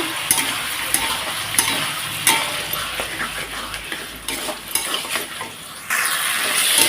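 Spice paste stir-fried with taro and fish in a pan, a continuous close sizzle with repeated clinking and scraping of a spoon against the pan, growing slightly louder at the end.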